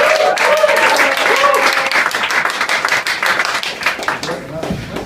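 Audience applause and cheering for performer Chris Saeed at a Vondelbunker show, a dense wash of clapping that holds loud, then thins and fades slightly toward the end, with crowd voices mixed in.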